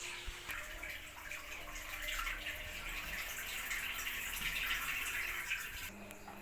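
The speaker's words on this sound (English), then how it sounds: "Let's see the way this machine is draining after unblocking." Hisense washing machine draining water after a blockage was cleared: a steady, close rushing hiss of flowing water that holds constant, then shifts abruptly near the end.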